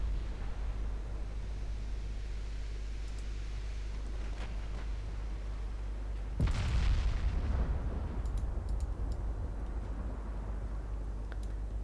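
Heavy naval guns boom from battleships and battlecruisers in a WWII-era strategy game, a steady low rumble building to one loud blast with a long rolling tail at the midpoint, then scattered faint reports.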